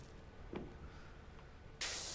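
Spraying from a pressure washer in the video game PowerWash Simulator 2: a steady, loud hiss that starts abruptly near the end after a quiet stretch and holds to the finish.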